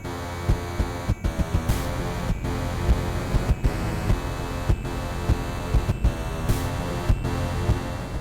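Dense, droning music from the horror game Faith: Chapter III, with a steady low hum, gurgling distortion and a faint high whine, broken by sharp rhythmic thumps and glitchy bursts throughout.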